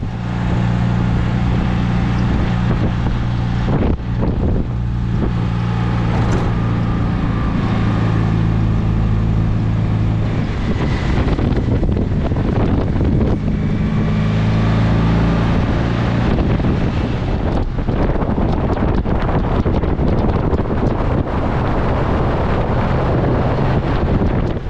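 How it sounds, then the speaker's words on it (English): Strong wind buffets the microphone throughout a blustery drive in an open Citroën Méhari, a steady roar layered over the low hum of the small car's engine and road noise, loud and continuous with no talking. "Quite a blustery drive."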